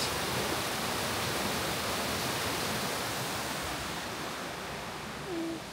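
Strong current of water at Grasmere in the Lake District, a steady loud broadband rush that holds for the whole stretch without any break.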